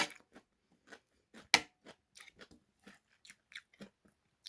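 Crunchy chewing of pumpkin fried rice, close to the mic, in a run of short, irregular bites with one sharper crunch, and no talking.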